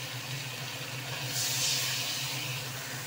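Spice-rinse water poured into a pan of frying ginger, garlic and chilli paste brings a broad steamy sizzle that swells briefly midway over a constant background hiss.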